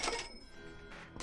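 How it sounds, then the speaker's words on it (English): Money pickup chime in the video game Touhou Genso Wanderer, a short bright coin-like jingle at the start and another at the end, fairly faint. "Money."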